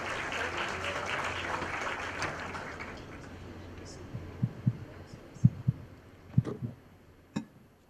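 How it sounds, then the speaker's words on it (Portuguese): Audience applause at a panel session of a tech conference on bots and AI, dense and sustained for a few seconds before fading out, followed by scattered low thumps and handling knocks. "Uma salva de palmas para ele."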